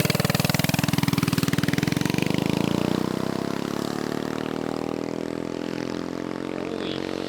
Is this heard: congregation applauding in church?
no